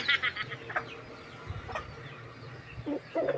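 Chickens cluck in short, scattered bursts close by, with a few louder squawks and some soft background rustling.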